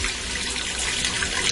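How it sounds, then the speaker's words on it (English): Beef broth pours from a carton with a hole cut in its top into a pressure cooker. The stream is smooth and steady, without glugging, and is heard close up for a moment. "I'm going to go ahead and dump in 4 cups of beef broth."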